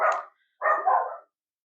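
A dog barks twice in a row indoors, close and fairly loud, each bark short and full, with silence after and no one talking.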